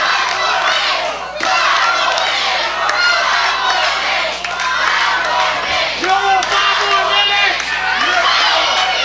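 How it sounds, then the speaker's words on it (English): Wrestling crowd at a CWF Mid-Atlantic show chanting for five more minutes: a loud, dense mass of voices shouting in rhythm, sustained throughout, with an announcer talking over it. "The crowd wants 5 more minutes."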